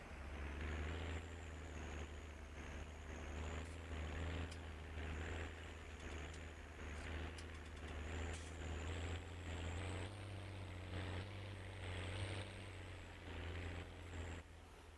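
A farm tractor's engine drones from outside the cab in a California Central Valley farming game, a faint, steady low rumble with slight rhythmic pulsing and no voices.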